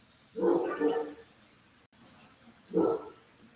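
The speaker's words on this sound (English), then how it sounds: "this is a blue tick hound" A bluetick coonhound gives two deep, drawn-out baying barks, close and loud, separated by a short pause over quiet background.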